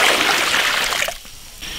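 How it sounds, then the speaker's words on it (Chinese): Water poured into a wok to boil, a steady splashing trickle that stops partway, then a quieter pause before a faint resumption. "来烧点开水"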